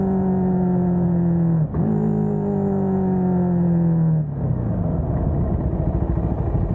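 Cfmoto 300nk motorcycle ridden through town streets, engine droning steadily close up with brief dips as the rider shifts gears, then rising again, no voices.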